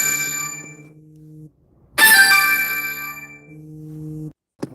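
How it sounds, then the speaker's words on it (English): Phone ringtone playing an incoming call: a clear electronic tonal melody with a short pause, then a brighter, louder ringing burst, fairly close and alone, with no voices. "That was a phone call I didn't expect."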